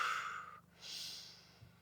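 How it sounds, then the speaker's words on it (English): A single soft breath in and out during a yoga flow, close and quiet, with no talking. "Breathing in and out."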